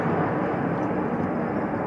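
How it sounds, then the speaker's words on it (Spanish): A video-game helicopter flying at night gives off a steady, loud broadband rotor and engine roar that fills the whole clip without pause, and no one speaks. "pero qué bicharraco de helicóptero"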